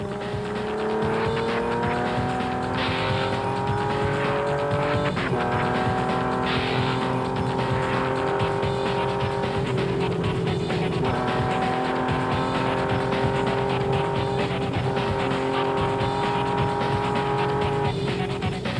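A BMW rally car races in an African off-road event, its engine loud and continuous with rising and falling revs as it shifts through gears, close and sustained across the whole stretch without speech.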